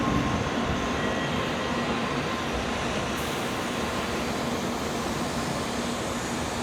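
Japanese bullet train at a station platform, heard as a loud, steady broadband rush and rumble that fills the whole stretch without a break.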